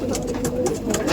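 Pigeons cooing at a pigeon seller's place in Brebes, Central Java: soft, low, repeated coos close by, steady throughout the short moment with a faint background hum.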